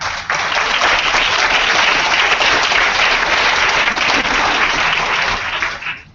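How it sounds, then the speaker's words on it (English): A round of applause at a business conference session in Gdansk, dense and even clapping from a sizeable audience, loud and sustained for several seconds before tapering off at the end. "Let's give them a round of applause."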